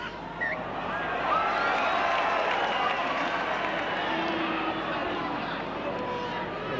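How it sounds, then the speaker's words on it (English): Rugby league fans boo inside the stadium at a 1988 Newcastle versus Parramatta match, a broad, steady crowd roar that swells and holds, with a commentator's voice over it. "Fans booing, but that whistle was very clear."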